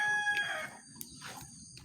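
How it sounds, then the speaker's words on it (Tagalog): Backyard chickens call nearby, a rooster crowing once in a short, moderately loud phrase over faint background clucking and ambient noise. "Yung mga manok natin."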